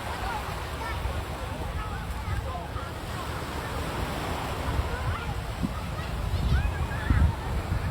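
Sea waves washing on a beach, a continuous rushing surf with wind buffeting the microphone, swelling slightly toward the end, with a voice faintly present underneath.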